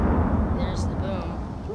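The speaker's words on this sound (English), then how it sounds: "There's the boom." Dynamite detonates in the Astroneer video game with a deep, loud rumbling boom that rolls on steadily for the whole moment.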